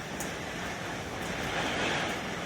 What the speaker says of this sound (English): those waves keep getting bigger.